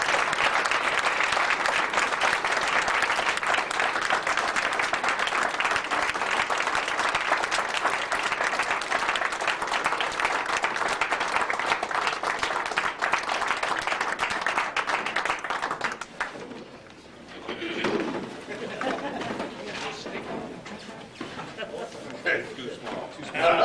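A hall audience applauds an award winner at a Kiwanis honors event, with loud sustained clapping for about sixteen seconds, then scattered claps, laughter and chatter as it dies down.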